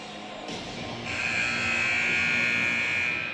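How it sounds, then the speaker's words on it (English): Ice hockey rink buzzer sounding in a girls' hockey game arena, a loud sustained electric drone rising after a second and holding steadily to the end over crowd ambience. "You can just hear the buzzer go off."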